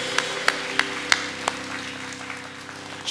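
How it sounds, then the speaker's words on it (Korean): Applause from a church congregation at the close of a worship service, heard as a handful of separate claps spaced about a third of a second apart over a steady low hum of organ or keyboard, fairly faint and with no talking. "우리를 인도하신 주님께 모든 영광의 박수 올려드립니다."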